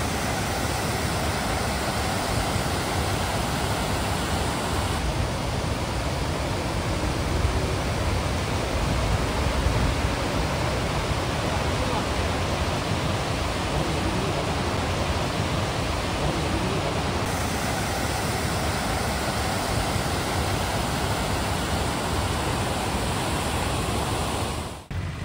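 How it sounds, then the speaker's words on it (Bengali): Pykara waterfall near Ooty sends white water tumbling over rock after rock in green forest. The result is a dense, unbroken roar that holds steady for the whole stretch, with no voices. "সাদা পুরো একদম জলের স্রোত, একটার পর একটা পাথর বেয়ে বয়ে আসছে।"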